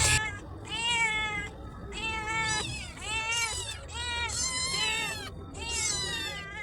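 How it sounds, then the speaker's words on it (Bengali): Two hungry cats meow repeatedly in a village home, loud close calls in quick overlapping bursts over faint background noise, with no talk. "শুনলে দুজনের আওয়াজ, এরা এই খিদের জ্বালায় এরকম ম্যাও করছিল।"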